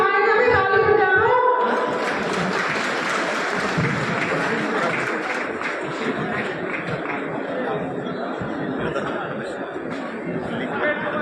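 A crowd at a political thank-you rally in Pundri, with an amplified voice at first, then dense applause and chatter from many people, steady and fairly loud, easing slightly over the stretch.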